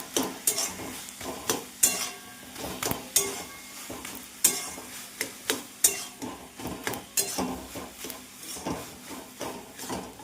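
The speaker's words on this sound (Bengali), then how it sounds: "ঘি দিয়ে দিচ্ছি, একটু গরম মশলার গুঁড়ো দিয়ে দিচ্ছি, দিয়ে একটু নাড়াচাড়া করবো এটাকে আগে" A spoon scrapes and knocks rhythmically against a frying pan while ghee and garam masala are stirred, a soft sizzle underneath, with sharp close metallic strikes every half second or so.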